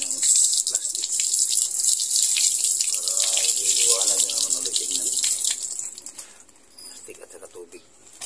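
Tap water runs steadily into a fish tank during a water change, a broad rushing splash that holds for about six seconds and then drops to a softer trickle, with a voice talking over it.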